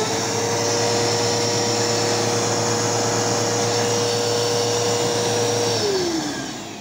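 A Bissell Cleanview II vacuum cleaner runs with a steady, loud whirring roar and high motor whine, then its pitch drops as it winds down near the end.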